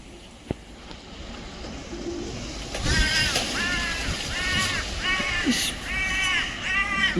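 Crows caw repeatedly in short bursts during a storm in Belgium, fairly close, over a constant roar of wind.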